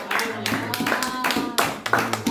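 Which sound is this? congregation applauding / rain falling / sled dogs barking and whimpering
congregation applauding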